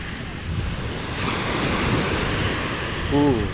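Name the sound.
ocean waves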